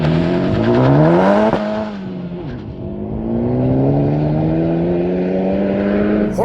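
A 2024 Acura Integra Type S with a 2-liter turbo four-cylinder making 320 horsepower launches hard under launch control. The engine revs high and rises sharply through quick gear changes, loud and close, with no talking.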